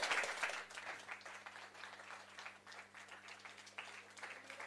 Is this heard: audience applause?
yes